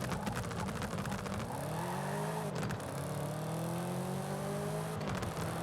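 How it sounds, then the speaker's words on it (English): A rear-wheel drive muscle car launches and accelerates in a Forza game, its engine revving and climbing through gears with a break at a shift, loud and continuous. "how good's launch control going to be in a rear-wheel drive muscle car?"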